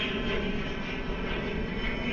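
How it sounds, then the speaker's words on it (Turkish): A military airplane flies overhead, producing a steady, loud broadband engine roar that fills the whole moment without pause. "Bir askeri galiba uçak geçiyor."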